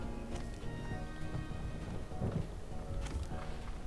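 Thunder from lightning in the video game Slime Rancher 2 rumbles as a steady, loud, dense roar with crackling bursts, continuous throughout and heard alone.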